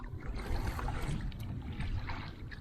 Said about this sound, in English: we're gonna paddle down there and see if we can get to it